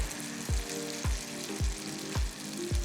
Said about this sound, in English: Once the pan is heated, add a ladle of the batter.